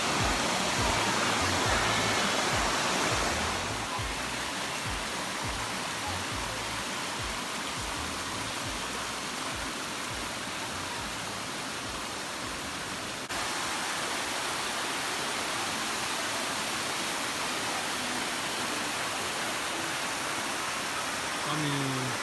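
Chatwarin waterfall at Sungai Padi, Narathiwat, roars as a steady, loud broadband rush of falling water throughout, with no clear voices above it.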